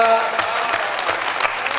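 Audience applause at a Bundeli poetry recital, a loud, steady round of clapping from the crowd that continues without a break.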